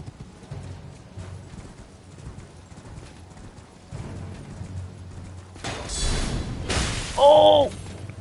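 A horse gallops in the video game Elden Ring: steady hoofbeats thud throughout, then louder crashing effects and a short whinny near the end.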